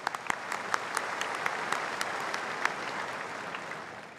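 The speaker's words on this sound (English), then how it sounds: "Another round of applause," Audience applause at a university graduation ceremony: a dense, sustained round of clapping from a large crowd with sharp individual claps standing out, fading slightly at the end.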